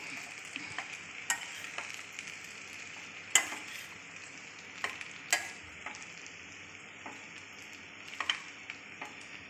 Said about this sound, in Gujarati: પછી એને હલાવીને મિક્સ કરી દઈશું જેથી તેલ સાથે મૂઠિયા સરસ રીતે